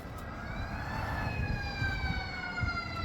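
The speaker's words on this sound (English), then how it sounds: "I can't escape these ambulances," Ambulance sirens wail past in steady rising and falling tones over a low traffic rumble, moderately distant and continuous with no talking.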